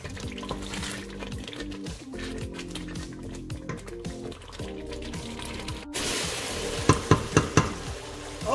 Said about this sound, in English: So once you add your tomato paste, start stirring.